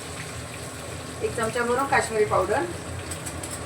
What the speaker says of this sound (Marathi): आता चिमणी लावली तुम्हाला चिमणीचा आवाज येत असेल